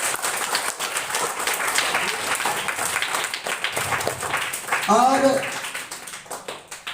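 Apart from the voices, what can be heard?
students applauding at school prize distribution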